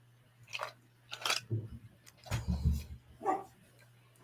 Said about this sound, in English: Yep, that would be my dog.